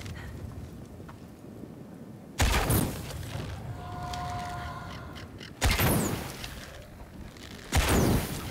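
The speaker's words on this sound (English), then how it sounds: "I'm just trying out my new bow that I got. It's supposed to be much better with fire, more powerful." Fire-arrow bow shots in Shadow of the Tomb Raider, three heavy whooshing bursts spaced a few seconds apart over a low game ambience, with a faint tonal hum between the first two.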